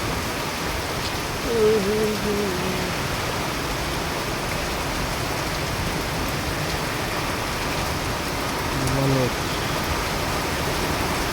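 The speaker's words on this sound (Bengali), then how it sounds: "এই বৃষ্টি থামবে কখন আর যাবো কখন" Steady heavy rain pours down in a dense, unbroken roar, with a couple of faint distant voices briefly rising above the downpour.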